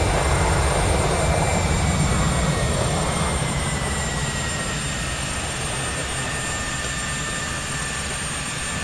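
An IXEG Boeing 737-300 lands in a flight simulator game, its engines producing a steady broadband roar with a thin high whine that slowly eases in pitch and level throughout.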